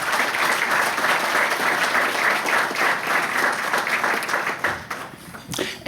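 A large audience at a university alumni awards ceremony claps steadily in a dense, loud, sustained wash of applause that thins and fades near the end.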